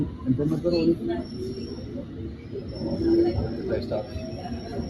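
Steady rumble of a moving train carriage in the UK with clattering and rattling throughout, people talking over the noise.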